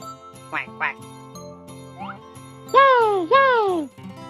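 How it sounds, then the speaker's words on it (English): A cartoon duck quacks in a toddler animal game built from Lego-style animals: two short quacks, then two louder, drawn-out quacks near the end, over a light, bouncy jingling music loop. "Quack, quack."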